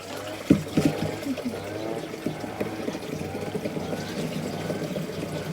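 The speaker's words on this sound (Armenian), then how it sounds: "Բանկայի մեջ լցնեմ, տեղը խառնվի" Water pouring into a container with a rising, gurgling fill sound, close by, after a brief knock at the start.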